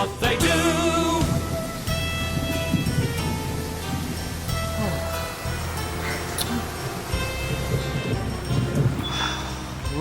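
Rain and rolling thunder in a cartoon, steady downpour with a loud crack near the start and low rumbles throughout, no talk over it.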